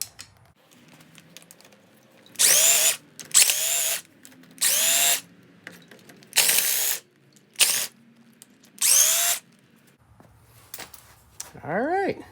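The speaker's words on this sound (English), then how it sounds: "So you can use a socket and just break them free." Six loud, even whirring bursts of a power tool driving a socket to break loose cylinder head bolts on a Polaris RZR 800 engine during teardown, separated by quiet gaps, ending with a rising mechanical whine.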